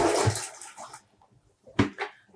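Running water splashing loudly while dyed yarn is rinsed, stopping abruptly after a second, then a short second gush.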